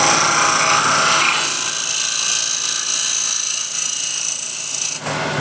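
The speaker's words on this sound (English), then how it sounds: "So put the fresh burr on the scraper just to get a nice finishing" Card scraper with a freshly turned burr shaving a wooden surface to a fine finish, a steady close rasping scrape lasting the whole stretch before cutting off near the end.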